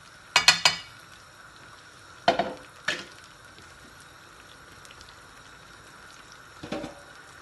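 Chicken being fried in a pan, heard as a few sharp bursts of sizzle and utensil clatter near the start, two more around the middle, and a last one near the end over a quiet kitchen background.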